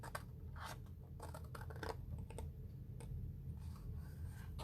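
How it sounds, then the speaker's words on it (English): Scissors snip through paper along a score line during a papercraft gift bag project, a quiet series of close, crisp cuts with faint rustling between them. "I'm going to cut up this score line."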